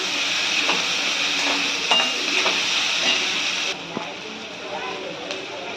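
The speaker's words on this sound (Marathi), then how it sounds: "आता कांदा भाजून घेऊया" Onions frying with curry leaves in a pan, giving a continuous close sizzle and hiss with occasional stirring clacks, easing slightly in level near the end.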